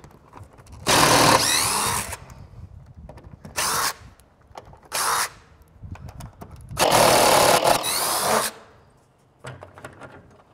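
A power tool backs long screws out of an exterior door frame in repeated loud whirring bursts of about a second each, with quiet handling noise in between.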